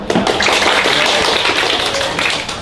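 High school students in a classroom clap their hands together in a dense, loud patter of many overlapping claps that lasts a couple of seconds, with a few voices mixed in.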